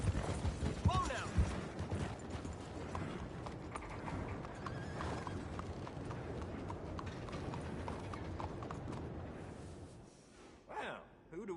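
A horse in Red Dead Redemption 2 clip-clops along with a steady rhythm of close, clear hoof falls. It gives a brief whinny near the start, and mechanical creaks sound as it slows to a stop near the end.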